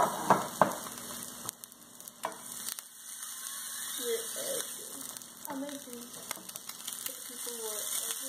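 An egg fries in a pan with a soft, steady sizzle, broken by a few clinks and scrapes of a utensil, while a person talks intermittently over the cooking.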